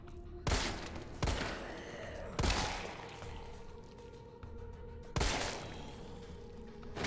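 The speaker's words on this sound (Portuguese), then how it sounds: "Os tiros estão dando uns splash violentos" Four heavy gunshot blasts in Resident Evil 3 Remake at irregular intervals, each loud and booming with a ringing tail, over a steady background hum of game ambience.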